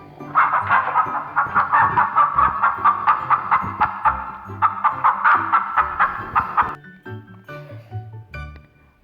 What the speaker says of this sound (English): Chickens live in a coop.